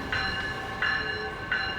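Northbound South Shore Line commuter train rolling past with a steady rumble, three evenly spaced bell-like tones ringing out above the continuous noise of the cars.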